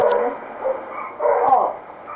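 A wolf or coyote in the Grande Señora desert of GTA 5 gives a few barks and yips in short bursts, fairly close and loud, with brief pauses between calls and no talking.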